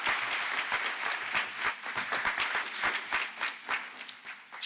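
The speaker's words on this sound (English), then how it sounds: "Let's give Stacy a big round of applause." Audience at a women's business series event breaking into applause, a brief burst of many hands clapping at moderate volume that fades slightly toward the end.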